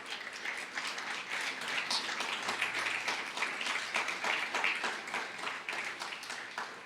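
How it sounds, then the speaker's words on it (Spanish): A church congregation at a Sunday morning service claps loudly and continuously in praise to God, dense crowd applause sustained evenly throughout. "Dale otro fuerte aplauso a Dios en esta mañana"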